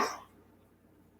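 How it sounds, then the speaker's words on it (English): A single cough bursts out close and fairly loud right at the start, then trails off into quiet low hum for the rest of the moment. "I still have a nasty cough."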